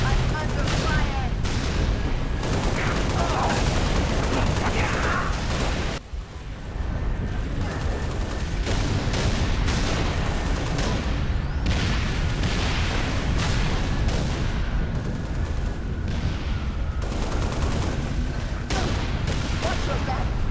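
Sustained gunfire and explosions fill a Halo: Reach battle on Legendary difficulty, dense rapid shots and booms running almost continuously with only a brief lull partway through.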